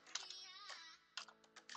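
Rapid keystrokes on a computer keyboard, a quick irregular burst of clicks, then a pause and a few more scattered taps, close and fairly quiet with no talking.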